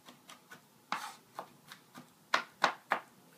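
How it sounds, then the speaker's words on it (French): Garlic is finely chopped for pebre, heard as about a dozen soft, close knife taps in an uneven rhythm, a few landing harder than the rest, with no voices. "on a haché l'ail finement"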